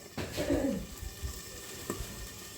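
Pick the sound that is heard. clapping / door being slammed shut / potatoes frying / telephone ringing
potatoes frying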